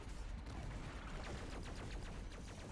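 Enemy gunfire in DOOM Eternal, a dense continuous barrage of rapid shots and blasts, loud and heavily layered, with no clear gaps between them.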